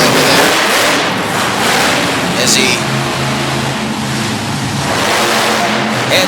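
A monster truck engine roars and revs at a monster truck event in Harrisburg, Pennsylvania, a loud, continuous, rough drone, with a commentator talking over it throughout.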